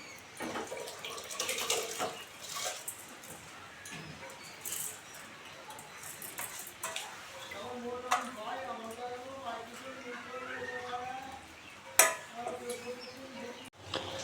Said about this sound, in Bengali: এবার চালটা ধুয়ে দেবো